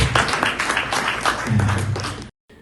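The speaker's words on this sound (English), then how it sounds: "So a big round of applause for Mr. Asif." Dense applause fills a hall at a ceremony for the American Premier League in Connecticut, steady and fairly loud, with a low voice or music murmuring underneath before it cuts off abruptly near the end.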